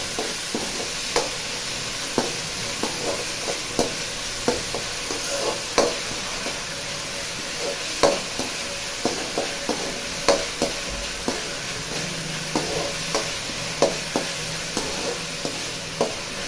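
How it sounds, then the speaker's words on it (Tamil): Mushrooms and vegetables with a little ginger-garlic paste sauté in a pan, with steady sizzling and a spatula scraping and tapping in regular strokes, close and alone without talk. "இப்போ கொஞ்சம் வதக்கலாம்."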